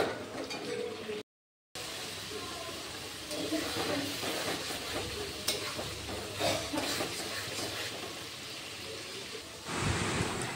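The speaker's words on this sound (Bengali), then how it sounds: "ততক্ষণ আমি মশলাটাকে কষাই ভালো করে" Sizzling spice paste for mutton curry fries in a pan under soft scraping stirs, a low steady hiss with a brief silent gap near the start.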